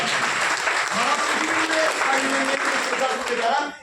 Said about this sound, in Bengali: একবার জোরে হাত তালি হোক।